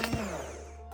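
Eggs for a semolina rava cake beaten with an electric mixer: a continuous whirring drone with a brief louder rattle at the start, close and alone.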